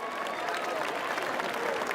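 A large outdoor crowd at the Conegliano 2024 carnival float parade applauds a performance by the Dance City dance school, producing dense, continuous clapping with crowd murmur underneath.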